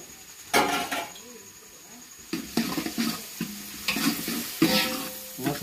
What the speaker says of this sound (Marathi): हे बघ, आता ते आपले मसाले व्यवस्थित तेलात तळले गेलेले।